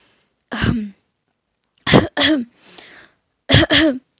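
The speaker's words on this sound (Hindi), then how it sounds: "वो बार बार खांस रहा था" Several harsh coughs and throat-clearing bursts, one single and then two close pairs, loud and close with brief silences between.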